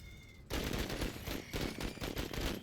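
In the video game Menace, a sudden burst of rapid automatic gunfire erupts loud and close, rattling on steadily with dense repeated shots after a brief quiet moment.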